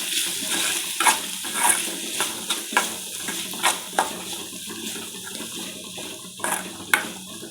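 Masala filling for egg puffs being stirred in a pan with garam masala, chili powder and coriander powder, giving repeated soft scraping and clacking strokes in an irregular rhythm over a steady wet background.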